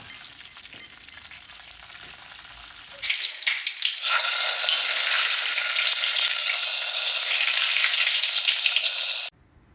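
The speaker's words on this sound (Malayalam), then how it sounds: "ഇനി വെളിച്ചെണ്ണയിൽ കടുക്, അതുപോലെ വറ്റൽമുളക് അത് നമ്മൾ" After a quieter stretch, a loud hissing sizzle bursts out as mustard seeds and dried chilies hit hot coconut oil, crackling steadily for about six seconds before cutting off.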